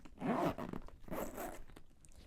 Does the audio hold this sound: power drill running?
no